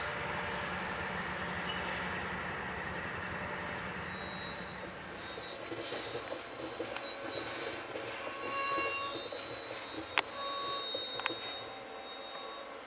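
A long unit grain train rumbles steadily along the rails at a grain loading facility in McCoy, Washington, with a broad low roar, faint metallic squeals and a couple of sharp clanks near the end.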